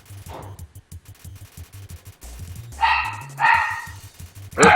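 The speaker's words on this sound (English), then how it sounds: "Dog." A dog barks twice in the video game Undertale, a pair of sharp retro chiptune barks over a looping low bass tune, followed by a short burst of high chirping.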